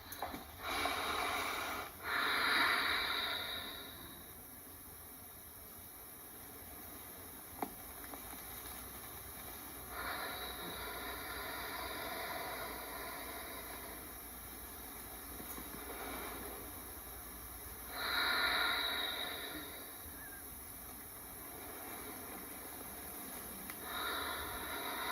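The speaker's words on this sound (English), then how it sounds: "I can really hear your breathing." Slow, deep breathing during tai chi movements, long audible inhales and exhales spaced several seconds apart over a quiet steady background hiss, with no talking.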